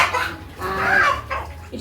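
Chickens clucking near a rural home, a few short close clucks and squawks over about two seconds with faint background noise.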